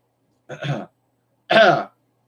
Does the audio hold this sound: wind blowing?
no